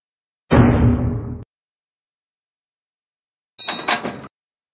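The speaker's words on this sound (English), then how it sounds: "Try it on the cell door." Two separate bursts of metallic rattling as a rusted key is tried in a locked prison cell door in Stonewall Penitentiary, the first a longer clatter and the second a shorter jangle after a silent gap.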